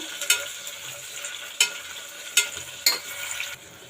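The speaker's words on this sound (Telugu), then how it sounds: "ఇప్పుడు మనం ఆనియన్స్ వేసుకుందాము. ఆనియన్స్ వేసుకుని కొంచెం మగ్గనిద్దాము." Onions frying with spices in a pan for a spinach mushroom biryani, a steady soft sizzle with several sharp stirring clinks of a spoon against the pan, close and alone.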